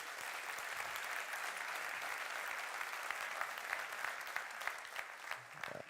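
Sustained audience applause at a conference talk, a dense, even wash of many hands clapping throughout, with a few sharper claps standing out near the end.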